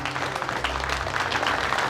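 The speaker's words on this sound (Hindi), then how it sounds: "सब लोग ताली बजाओ।" An audience applauds steadily and densely at moderate loudness, a continuous wash of many hands clapping with a low hum beneath and no clear voices.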